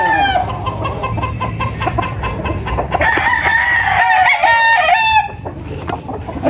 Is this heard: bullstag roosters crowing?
yes